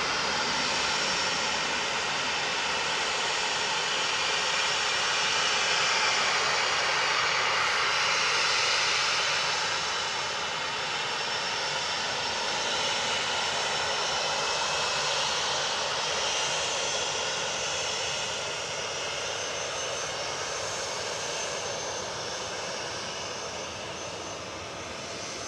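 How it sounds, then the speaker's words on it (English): A TUI Boeing 737-800 takes off from Manchester Airport, its jet engines giving a steady, broad roar that swells slightly and then slowly fades, heard alone with no voices. "Lined up to go now from Victor Alpha, we have got TUI to Chambéry, flight 2678, GTUKW"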